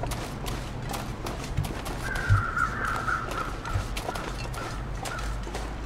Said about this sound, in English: Where are the crows?